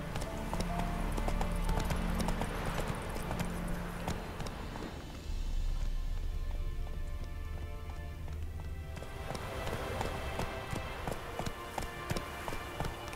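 Horse hooves gallop steadily in The Witcher 3: Wild Hunt, a rapid, continuous clip-clop that is loud and close, with a short dip in the pounding midway and game ambience behind it.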